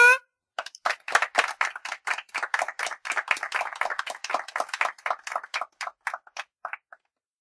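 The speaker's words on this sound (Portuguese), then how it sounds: "E as palmas vão para..." Rhythmic clapping from a few people closing a religious podcast episode, sparse claps building into a steady brisk patter after a short opening sound, then tapering to isolated claps and ending in silence.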